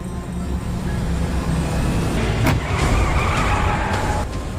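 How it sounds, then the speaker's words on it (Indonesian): Car driving along a road, a steady close engine and tyre roar with a brief whoosh partway through. "ada mobil yang dari tadi mengikuti mereka"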